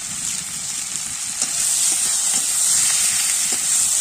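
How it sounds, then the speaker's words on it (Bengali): Telakucha (ivy gourd) greens, salted, sauté in a hot pan with a steady, close hiss of frying and faint stirring scrapes running throughout. "ভালো করে আমি কষিয়ে নেব সবজিটাকে।"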